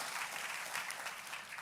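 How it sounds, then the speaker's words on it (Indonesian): A church congregation at a live-streamed GBI service applauding, dense continuous clapping from a large crowd, steady and moderately distant. "Tepuk tangannya jangan separuh-separuh, yang paling meriah buat Tuhan kita."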